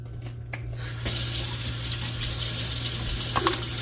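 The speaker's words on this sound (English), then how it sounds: "Let me rinse these leaves." Kitchen tap water runs steadily over basil leaves being rinsed in a sink, starting after a moment of quiet handling and then holding a loud, continuous splashing flow.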